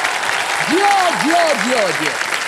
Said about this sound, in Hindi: जोरदार तालियां बज जाए शंकर जी की।